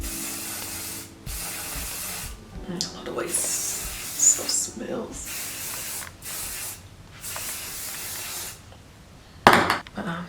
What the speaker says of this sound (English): I'm gonna use my olive oil spray just to give it a little shine.